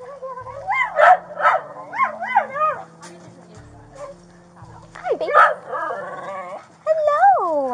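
Several neglected dogs, rescued after being left outside in intense heat without food or water, whimper and yip in high, wavering cries, with short excited bursts and a few sharp barks close by.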